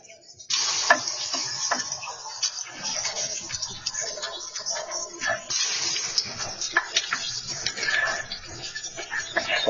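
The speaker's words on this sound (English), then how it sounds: "I'm just gonna melt this butter and get it in there." Butter melts and sizzles in a pan over low heat while ground beef is cooked for Salisbury steak, a steady close hiss and crackle with occasional stirring clatter throughout.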